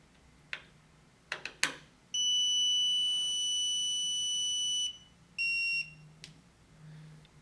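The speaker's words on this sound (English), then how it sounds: "it gives off a long beep followed by a short beep" An electronic keypad deadbolt sounds a few short clicks, then one long steady electronic beep followed by a brief short beep, with a couple of quiet taps after.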